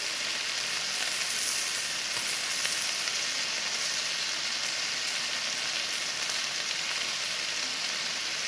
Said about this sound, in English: I'm just going to spread a little bit over my bun. Place it down on the griddle.